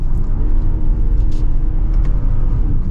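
A 2025 BMW X4 M40i in eco mode pulls away with a low, steady engine rumble heard from inside the cabin, loud and continuous with a muted, smooth build and no talking.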